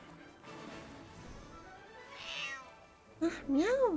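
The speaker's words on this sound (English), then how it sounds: "The cat speaks eloquently, but with a sharp edge to its tone" A cat meowing in the fantasy video game AFK Journey, a couple of rising, bending meows near the end, close and clear, following quiet narration and soft ambient game tones.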